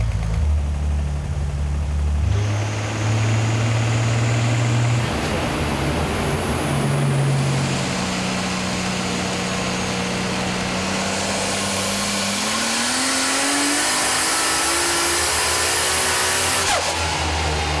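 A car engine drones steadily at high load on a dyno, its pitch climbing in stages as it revs up, loud and continuous over a broad mechanical roar.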